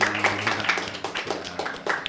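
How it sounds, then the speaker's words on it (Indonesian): Audience claps scattered and loosely for a university rector welcoming him at a high school podcast event, individual claps audible over a room hum with some murmuring. "Kasih tepuk tangan dong buat Bapak Fadilah."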